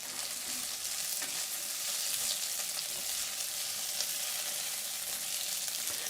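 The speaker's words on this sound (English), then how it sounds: "we just want to put a little toast on the spices" Star anise and long pepper toasting in a dry pan give off a soft, steady crackling sizzle, faint and continuous with small pops throughout and no voices over it.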